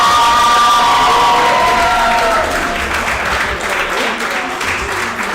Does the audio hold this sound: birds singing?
no